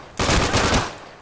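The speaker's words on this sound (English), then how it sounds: "He's just blindly shooting." Gunfire in the shooter game Day of Infamy: a short loud burst of rapid automatic shots lasting under a second, close and alone, then quickly fading.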